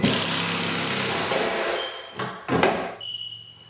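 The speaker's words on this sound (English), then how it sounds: "I'll run my screws." A power driver runs screws into a cabinet during installation, a steady whirring drive that fades, followed by a couple of short bursts and a faint high whine, with no talking.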